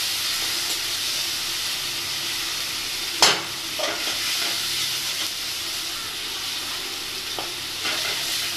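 Spices with chilli powder and chopped tomato sizzle steadily in hot oil, a continuous bright frying hiss with a sharp scrape or clatter of stirring partway through and a few softer stirring knocks after.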